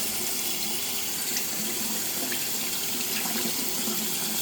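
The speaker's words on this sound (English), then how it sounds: "Give it a rinse off." K&N air filter from a classic Mini Turbo being rinsed under running tap water, a steady close hiss and splash of water that continues unbroken, with no talk.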